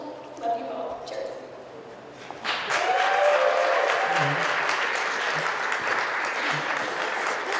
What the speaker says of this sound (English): a big round of applause for Larry, Chuck, Andrea, and Taylor